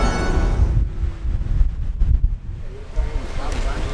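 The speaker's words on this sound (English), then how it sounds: "just come outside, it's a bit blowy" Wind blowing outdoors at Kennedy Space Center in Florida, a loud gusty rumble buffeting the microphone in irregular bursts throughout, with no voice over it.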